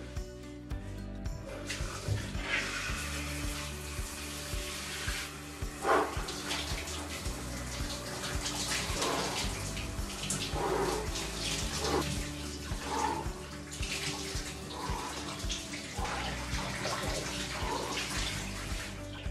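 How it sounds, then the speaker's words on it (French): A cold shower runs in a bathroom, water splashing and drumming unevenly on the body and tub floor, with louder bursts as the spray shifts; no one speaks. "je prends une douche froide tous les matins"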